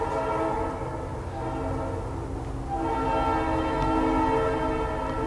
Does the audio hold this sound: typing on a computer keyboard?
no